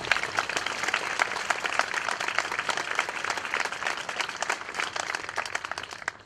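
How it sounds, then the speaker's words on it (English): A graduation audience claps for community organizations, a dense, steady burst of many hands sustained throughout at moderate loudness, with no talking over it. "Please give these community organizations a round of applause."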